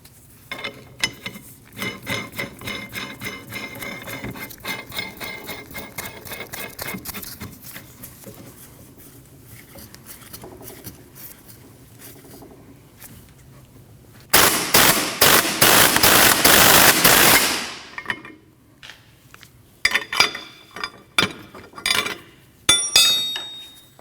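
A hub and bearing removal tool with a small cup presses the rear wheel hub out of a 2003-2008 Subaru Forester: steady ratcheting clicks and metallic clinks, then a loud dense grinding burst, then scattered sharp clanks, with no talking.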